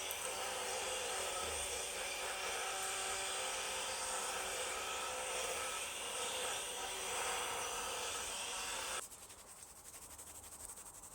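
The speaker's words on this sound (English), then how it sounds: "I'm using a heat gun for the wax to better melt into the parts." Steady, loud whooshing roar of a heat gun blowing on wax over parts of a handforged dagger and its scabbard, running continuously before abruptly dropping in level near the end; no talking.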